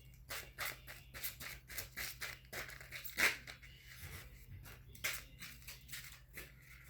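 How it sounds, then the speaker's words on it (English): Oracle cards shuffled by hand for a Cancer love reading, a quick run of crisp riffling card flicks and papery snaps close to the mic, with no talking over them. "One more shuffle."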